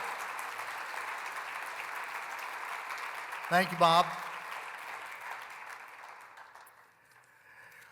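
Applause from a banquet audience honoring laureates and entrepreneurs at a business hall of fame event, a steady wash of clapping through most of the stretch that thins out near the end, with a brief spoken thanks in the middle.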